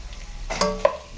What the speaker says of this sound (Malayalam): ഇനി നമുക്ക് ഉള്ളിയൊക്കെ ഇട്ടിട്ട് വയറ്റി വഴറ്റിയെടുക്കണം